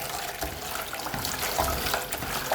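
Shrimp are gently swirled in a bowl of washing water, giving soft close sloshes and light splashes over a steady watery background with no talking.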